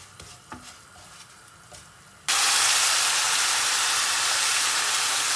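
Rice toasting in oil in a pot: after a few light clinks and stirring taps, a loud, steady sizzling hiss bursts up abruptly and keeps going without a break.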